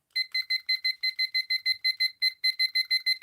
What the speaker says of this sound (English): Such a basic alarm.